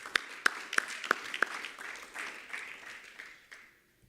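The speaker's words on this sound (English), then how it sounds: "Please clap hands" Light audience applause at a trade union panel on African sovereign debt, opening with a handful of distinct sharp claps before settling into a soft, steady patter that fades out by the end.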